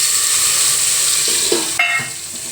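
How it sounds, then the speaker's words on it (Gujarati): Potatoes and peas sizzle and fry in hot oil in a pan, with a spoon stirring them; a steady close hiss runs throughout, broken by a few brief scraping knocks near the end. "હવે આપણે બટેટા અને વટાણા 2 વઘારી નાખીએ."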